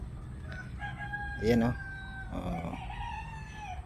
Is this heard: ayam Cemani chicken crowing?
yes